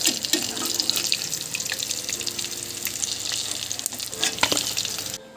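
Stuffed pointed gourd (potol) filled with a fish-oil stuffing fries in hot oil, giving a steady, dense sizzle and crackle throughout with no voices.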